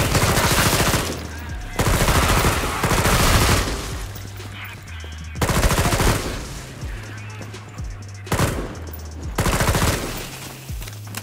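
Bursts of rapid automatic gunfire in Killing Floor 2, several loud volleys lasting one to two seconds each, separated by quieter gaps with game sounds underneath.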